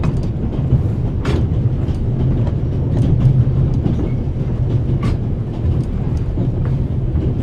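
A passenger train rolls along the rails with a loud, steady low rumble, faint rhythmic wheel clatter and occasional sharp clicks, heard close as if from on board, continuous for the whole stretch.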